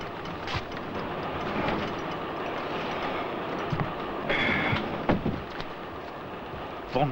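A train running on rails in a 1968 secret service adventure series, its steady broadband rumble and rattle continuing throughout at moderate loudness, with a few brief sharper clanks and a squeal near the middle.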